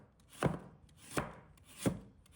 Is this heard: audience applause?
no